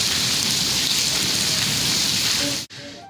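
Steady heavy rain pours down in the Cholistan desert in news footage, a dense, loud hiss that cuts off abruptly near the end into a quieter segment.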